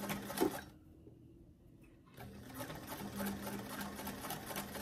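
A sewing machine stitches fabric for doll clothes, a quiet rapid whirring run that pauses for about a second and a half, then starts again and continues steadily.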